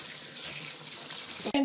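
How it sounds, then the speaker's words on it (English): Tap water runs steadily over soaked potatoes being rinsed to remove excess starch, a continuous moderate splash and hiss that ends with a short knock and a brief tonal squeak. "So I'm just going to go ahead and rinse it up properly to make sure that any excess starch in our potatoes comes out."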